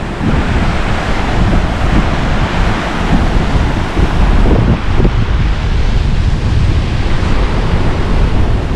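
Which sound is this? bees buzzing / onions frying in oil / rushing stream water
rushing stream water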